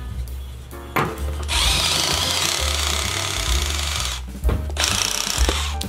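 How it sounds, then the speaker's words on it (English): A Milwaukee impact driver fitted with a hex-shank drill bit bores into wood, a loud, steady whirring grind with a brief stop near the one-second mark and another short pause late on, heard close up with no talk. "Milwaukee impact driver. Why is this so good? Because it doubles as a drill."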